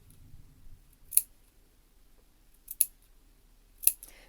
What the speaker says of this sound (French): Donc on crante toute la longueur